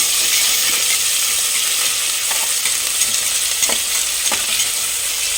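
Ginger garlic paste and onion pieces frying in a pan, a loud continuous sizzle with several sharp clinks of a spatula stirring against the pan.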